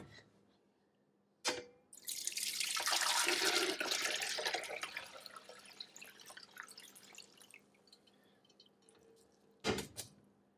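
Homemade ginger beer pouring over a kitchen sink, a splashing, rushing stream of liquid that swells then tapers off into trickles, bracketed by sharp knocks of containers at the start and end.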